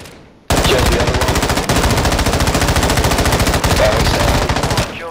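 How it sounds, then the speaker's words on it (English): Sustained automatic gunfire from the Call of Duty video game rattles on loud and continuous for several seconds, breaking in abruptly after a brief quiet lead-in. "You are taking effective fire."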